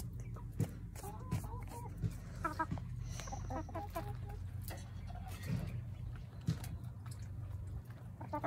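Chickens clucking in short, scattered bursts over a steady low outdoor rumble, with occasional sharp ticks and a faint voice in the background.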